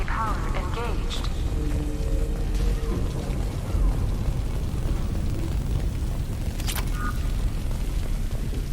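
A Mass Effect in-game explosion rumbles with a deep, sustained roar and scattered bursts, while a voice speaks over it early on.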